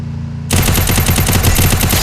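Rapid automatic gunfire in the mobile battle-royale game Free Fire, a loud, fast burst of shots that starts abruptly after a brief quiet moment and keeps rattling steadily to the end.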